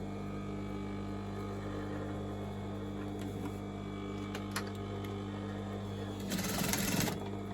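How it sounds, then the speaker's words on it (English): A sewing machine stitching the end of a large shopping bag, a low steady whirring hum that swells into a louder, rougher burst of fast stitching toward the end, close by with no talk. "So I'm going to just stitch this end first."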